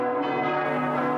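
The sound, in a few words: church bells ringing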